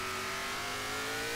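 Car in Forza Horizon 3 on a Hot Wheels loop track, engine revving hard and accelerating with a steady, loud droning tone throughout.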